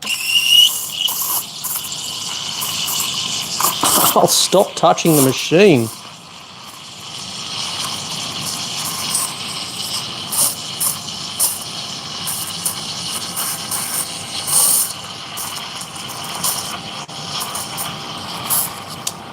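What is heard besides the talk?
La Pavoni lever espresso machine steam wand steaming skim milk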